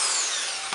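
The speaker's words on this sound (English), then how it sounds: "when you drill the holes, just to ream them a bit and sort of tilt the drill around" Power drill reaming and widening a dowel hole in wood, the bit tilted around inside it: a steady high whine with grinding friction throughout, one brief knock near the end, close and alone.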